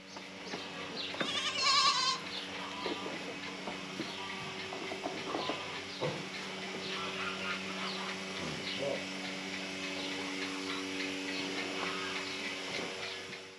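Goats bleat on a farm in Albania, with a loud cry early on, then softer calls scattered over a busy outdoor background of farm animal noise.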